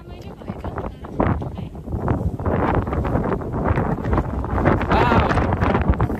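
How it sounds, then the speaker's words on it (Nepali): Strong wind at Kalinchok, Nepal, buffeting the microphone in a steady roaring rush, with people talking underneath throughout. "कस्तो हावा लागेको"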